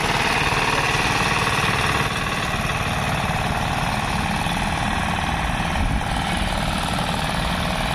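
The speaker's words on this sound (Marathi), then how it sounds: "all in one Indian power tiller mini tractor" Indian all-in-one power tiller mini tractor engine runs steadily and loudly nearby, a continuous chugging drone that holds even throughout with a slight drop in level early on.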